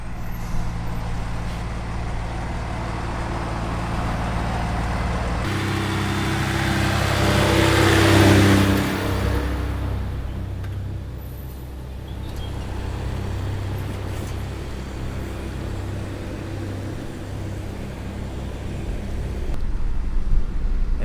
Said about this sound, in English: that would be the ice truck.